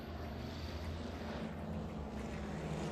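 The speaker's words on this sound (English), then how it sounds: "fighter jet whizzes past overhead, the tremendous noise stabbing into every eardrum" A fighter jet in the video game Girls' Frontline passes low overhead as a loud, continuous engine roar with a dense low rumble and a broad hiss that swells slightly across the pass.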